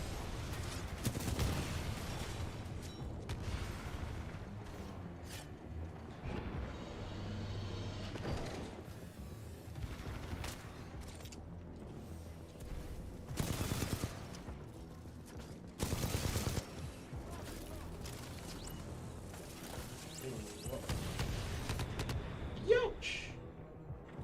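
Bursts of gunfire and mechanical clanks from a shooting practice range in the video game Titanfall 2, heard in scattered loud volleys against a quieter background, with a person talking at times.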